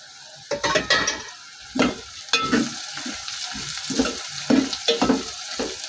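Onions frying in a pan as cumin, cloves, black pepper, black cardamom and cinnamon are added, with bursts of stirring and scraping over a steady close sizzle, no talking.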